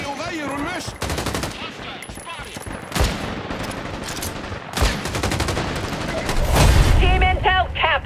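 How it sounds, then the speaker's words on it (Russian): Bots fire guns from above in the video game Caliber, in a PvPvE match on the Threshold map. Rapid bursts of automatic fire and single cracks sound loud and close, rising toward the end, with voices talking between the shots. "там боты стреляют сверху"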